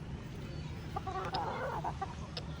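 A chicken clucks a few times nearby over a constant low background hum.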